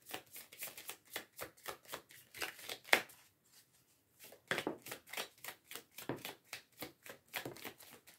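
Tarot oracle cards shuffled and drawn in a quiet room, a steady run of crisp riffling flicks and soft slaps with a brief pause midway, close and fairly quiet, no talking.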